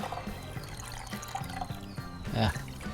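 Water pours and splashes into a pot of beans in uneven bursts, with clinking and sloshing, getting louder near the end.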